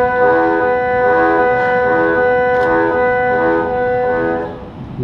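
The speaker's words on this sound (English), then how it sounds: "I'm pushing my tongue out and blocking the notes and pulling it back." Harmonica played with tongue blocking, the tongue pushed out and pulled back across the holes, giving a sustained chordal reed tone with a steady pulsing rhythm, loud and close, no talking.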